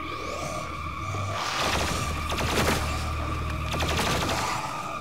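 Rapid bursts of gunfire in the video game Doom Eternal crackle in several volleys over a steady mechanical hum, loud and close, with no talking.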